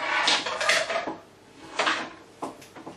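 Homemade chocolate crunch boilie mix is stirred in a bowl, giving close scraping and clinking bursts of a utensil against the dish with a brief lull in the middle.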